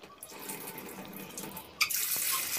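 Rice is rinsed under a running kitchen sink tap. Water flows softly at first, then a loud, steady gush of tap water pours close by with no voices.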